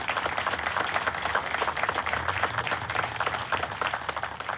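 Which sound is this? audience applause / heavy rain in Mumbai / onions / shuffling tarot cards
audience applause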